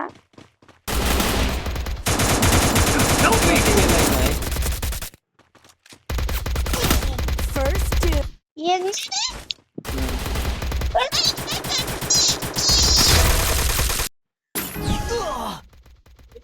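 Gunfire from the video game Free Fire comes in loud, dense bursts of rapid shots broken by short silent gaps, along with bits of in-game sounds.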